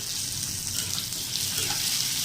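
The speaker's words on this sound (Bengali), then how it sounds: "কুচনো টমেটো এই তেলের মধ্যে দিয়ে দেবো।" Chopped tomato dropped into hot oil in a pan where potatoes have been frying: a loud, steady hiss and sizzle with a soft watery crackle, continuous from start to end.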